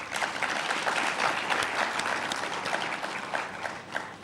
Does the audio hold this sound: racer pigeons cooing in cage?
no